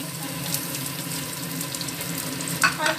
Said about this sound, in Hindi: हरी मिर्च डालकर थोड़ी देर इसको हम फ्राई करेंगे